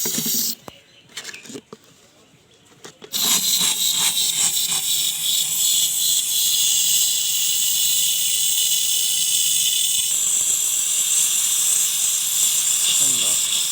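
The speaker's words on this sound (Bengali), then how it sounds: "এখন লিকুইড বিউটেন গ্যাস ভরে নিই আমরা" Liquid butane gas filling a bottle for a homemade rocket experiment: a sudden, loud, steady hiss that starts after a few seconds of quiet handling noises and continues unbroken, close up, with no talk.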